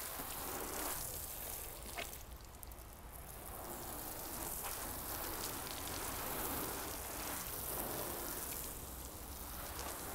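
Water from a hose rinses a car parked outdoors, a steady broadband spray and patter on the body panels that continues unbroken throughout, close and fairly loud with no one talking.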